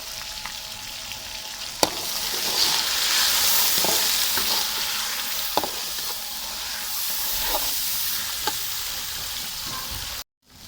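Chicken frying in a pan with turmeric and salt, a loud continuous sizzle and hiss with occasional scraping knocks from stirring, close up with no talking.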